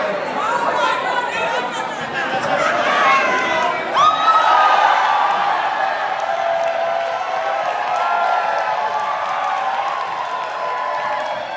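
A dense crowd cheers and chatters loudly at a gathering while the Green Party deputy leader crowd surfs, with sustained shouting and whoops rising to a peak partway through, voices blending into a steady roar.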